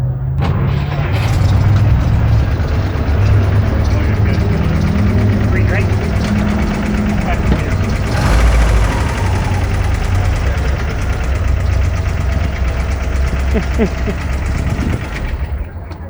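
Engine of a 1953 Willys Overland station wagon cranking and catching, then a steady rumbling idle, close up, with people talking over it.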